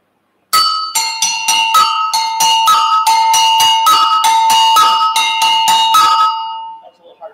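Agogo bell playing a syncopated partido alto rhythm, two-toned metallic strikes in an uneven repeating pattern, close and ringing, alone with no talk, fading out at the end.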